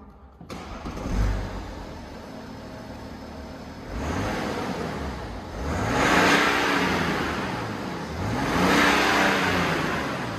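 A stock Mazda car engine starts, then revs up in several rising and falling sweeps, close and loud, with no talking over it.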